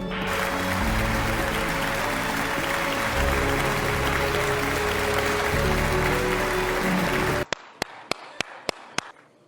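Slow applause from a single pair of hands: five sharp, evenly spaced claps that ring out alone after a long stretch of dense, loud, noisy sound.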